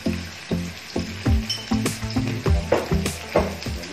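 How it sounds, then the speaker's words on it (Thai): Tamarind chili paste with fresh bird's eye chilies stir-fried in a pan: steady close sizzling with repeated rhythmic scrapes and clacks of a spatula, loud and alone. "เราจะผัดไปเรื่อยๆใช่ไหมคะ"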